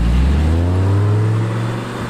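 An Audi R8 accelerates hard under full throttle, a loud, close engine note with rising harmonics that swells and then eases off slightly over about two seconds, with no talking.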